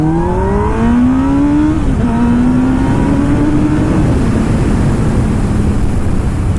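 A sport touring motorcycle accelerates hard up close, its loud engine note climbing steadily in pitch, dropping briefly at two gear changes and then pulling on in a sustained roar.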